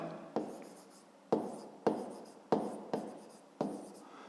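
A pen scratching on paper while a maths exercise is written out, six separate quiet strokes each starting sharply and fading, spaced irregularly with nothing else heard.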